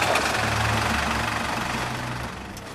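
A brown 1944 Willys jeep engine idles on an off-road trail, giving a steady, close, low mechanical rumble with a slight knocking texture that eases off a little toward the end.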